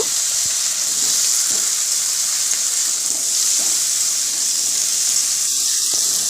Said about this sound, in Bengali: আলু বেগুনটা দিয়ে একটু ভালো করে এটাকে কষিয়ে নেব